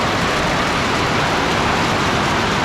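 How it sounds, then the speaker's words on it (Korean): Heavy afternoon downpour, a dense, continuous loud hiss of rain pouring down with no pauses and no voices. "오후에 또 한 번 엄청난 소나기가 내립니다"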